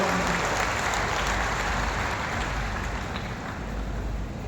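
Large rally crowd applauds to welcome a minister, a dense, loud, continuous roar of clapping filling the whole stretch with no break, like heavy rain.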